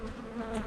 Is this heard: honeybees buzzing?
yes